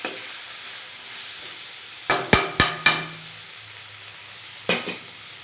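Onions and tomatoes cooking in a pan with chili powder, a steady soft sizzle throughout, broken by a few quick knocks of a spoon against the pan, close and moderately quiet.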